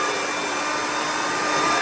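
A failing cooling fan in a 2009 Apple Xserve server whirs loudly and steadily with a harsh, airy roar, unbroken and close, like a hair dryer running.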